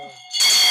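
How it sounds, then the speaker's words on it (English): Hand bell rung loudly, a bright sustained ringing that swells in after a brief quieter tone, filling the short moment alone with no talk. "How many times did I ring the bell?"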